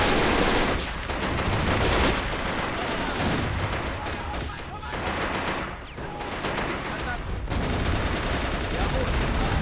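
Battle gunfire rages in the video game Men of War: Assault Squad 2 as Stalingrad's city center is fought over in 1942, dense overlapping bursts of rifle and machine-gun fire with heavy booms, loud and continuous, with voices mixed in.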